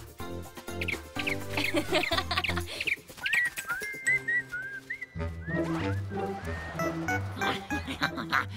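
Cartoon robin chirping, a series of short whistled tweets and trills heard close over background music, with animated characters talking around it.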